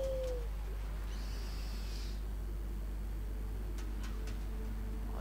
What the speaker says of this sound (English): let's call our owl